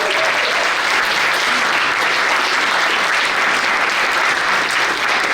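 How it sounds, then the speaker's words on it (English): Sustained audience applause for a children's group and the Telluride Choral Society at a Wintersing concert, a steady loud wash of many hands clapping throughout with no voices over it. "How about another round of applause for the kids and for Telluride Choral?"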